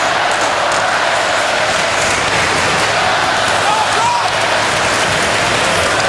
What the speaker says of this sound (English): Crowd here on a Sunday night with the rhythmic clapping to get the Red Wings going here.